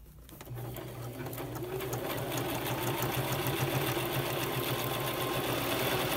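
A sewing machine stitches iron-on fabric snippets, running in a steady, close, continuous whir that builds after a brief start and holds evenly to the end, with no talking.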